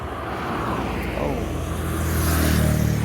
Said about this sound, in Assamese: গাড়ী আহি আছে